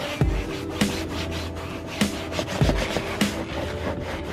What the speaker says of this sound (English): Just come here and just scrub the spot away, man.